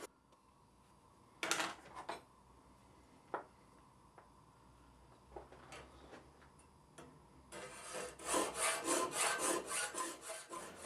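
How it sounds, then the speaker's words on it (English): A file rasps over metal work clamped in a forged filing vise insert, with a few sharp knocks and taps first, then a run of rhythmic, close filing strokes. "the basic idea is to keep the work angled so you're filing flat"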